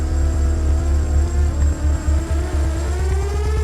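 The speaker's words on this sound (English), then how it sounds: "She looked up and saw a drone with a camera hovering over her." A camera drone hovers overhead, giving off a steady, loud, droning buzz of spinning rotors whose pitch wavers and slowly climbs, heard alone and continuous throughout.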